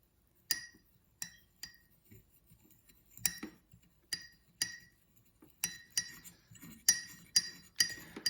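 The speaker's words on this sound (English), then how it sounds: "And now we kind of just mix this." A spoon stirring milk tea in a cup clinks against the ceramic again and again, close and clear. The taps start sparse and irregular, then come faster and louder toward the end.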